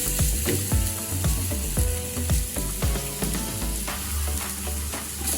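Ginger sizzling and frying in virgin olive oil in a pan, a steady close crackle, with irregular clicks and clatter as the pieces are stirred and shifted.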